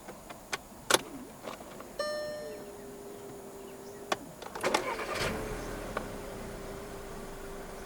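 A 2011 Audi A1 1.4 TFSI is started with a key in a quiet cabin: soft clicks, a short electronic chime, a brief crank, then the engine catches and settles into a low, quiet idle.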